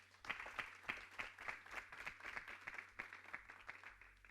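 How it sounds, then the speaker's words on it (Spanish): An audience applauds to welcome a speaker at a talk on reading, a steady patter of many hands clapping, faint and somewhat distant, with no talk. "por favor, un aplauso de bienvenida"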